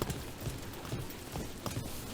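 Horse hooves clip-clop at a steady walking rhythm in Dragon Age: The Veilguard, moderately close over a dense bed of game ambience and music.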